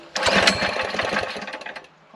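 A Coleman BT200X mini bike engine fitted with a VM22 carburetor cranks and sputters loudly up close, a rough buzzing burst that briefly catches and then fades unevenly without settling into a steady idle.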